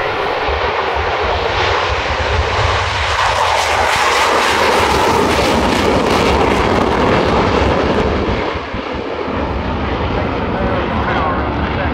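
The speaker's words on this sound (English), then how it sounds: "But now the Sukhoi Su-22 fitter, the Russian aircraft." At the Royal International Air Tattoo 2014, a Russian Sukhoi Su-22 Fitter jet produces a loud, sustained engine roar that swells and fades as it passes, with an announcer's voice likely under the noise.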